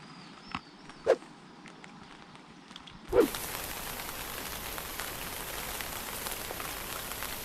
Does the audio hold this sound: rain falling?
yes